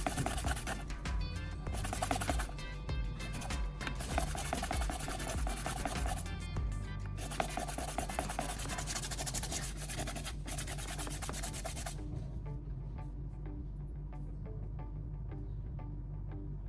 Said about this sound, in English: I'm now sanding all the cut edges of this small wooden piece.